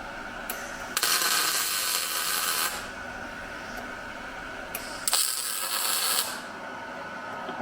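Two short bursts of MIG tack welding with 0.030 wire at 260 wire speed and 18.5 volts, each a crisp, steady crackling buzz lasting over a second, close and fairly loud with quiet gaps between.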